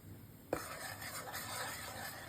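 A spoon stirring hot chocolate in a pot on the stove, a soft scraping clink followed by a steady low swirling and faint sizzling bubble, fairly quiet and close.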